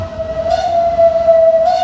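A steam train on a Swiss heritage line gives a loud, sustained single whistle tone, with brief bursts of hiss near the start and end over low rumble.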